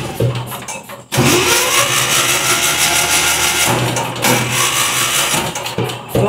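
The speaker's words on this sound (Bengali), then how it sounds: "সেটা হচ্ছে আমাদের এখানে এই যে জেনারেটরের ব্যবস্থা আছে।" A generator at a poultry hatchery runs loudly, a steady mechanical drone that cuts out briefly and restarts with a surge of engine noise.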